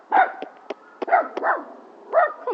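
A dog barks repeatedly in short, loud, close yaps and yips, several irregular bursts separated by brief pauses, with sharp clicks in between.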